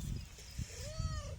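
A single wavering goat bleat rises midway through, over a steady low rumble of background noise.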